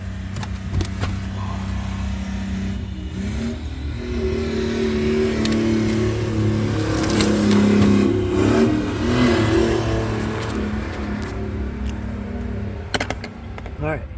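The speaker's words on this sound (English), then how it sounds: "250 straight 6, inline 6, in the old 1972 Chevy pickup truck." A 1972 Chevy C10 pickup's 250 cubic-inch inline-six idles steadily nearby, its low engine drone rising briefly as it revs in the middle, alone with no talk.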